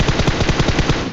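Rapid automatic gunfire in PUBG Mobile Lite knocking down an enemy, a tight burst of about ten evenly spaced loud shots over roughly a second, with no talking.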